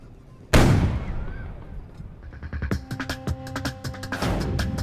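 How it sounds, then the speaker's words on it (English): A loud cannon blast booms out suddenly outdoors in St. Augustine, Florida, its roar decaying slowly, followed by a burst of sharp crackling pops and bangs echoing nearby. "The cannon blast was very loud."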